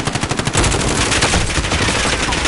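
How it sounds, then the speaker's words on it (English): Rapid automatic gunfire from a PS4 video game crackles in a quick rhythmic burst, then blurs into a loud continuous roar of shots. "He's shooting at me!"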